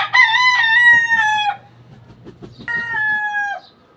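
A gamecock of Lemon Sweater and Kelso bloodline crows loudly and close while being handled, one long crow followed by a shorter second crow with faint handling noise between.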